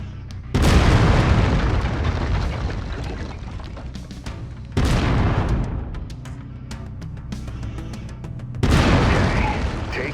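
An autocannon on a mech in the PC game MechWarrior 5 Mercenaries fires three heavy booming shots spaced about four seconds apart, each loud and close with a long rumbling decay.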